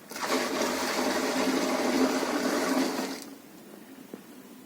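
Water pours steadily into a jeevamrit mixture of cow dung, jaggery and gram flour for organic farming, a loud close gush lasting about three seconds before stopping abruptly, leaving a quiet background.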